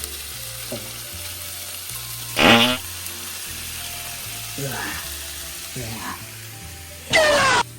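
Marinated meat sizzling in a pan on medium-high heat, a soft steady fry broken by a few louder bursts of hissing sizzle as pieces are turned and stirred, with a voice talking at moments.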